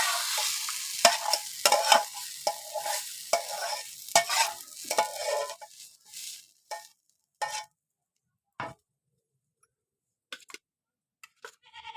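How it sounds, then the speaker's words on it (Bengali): Leafy greens (shak) stir-frying in a pan, a dense close sizzle with scraping stirs for about six seconds, then fading into sparse isolated clicks and taps over near silence. "এই দেখুন শাক ভাজা হয়ে গিয়েছে"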